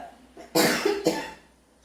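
Two quick, close coughs, the second slightly weaker, then quiet.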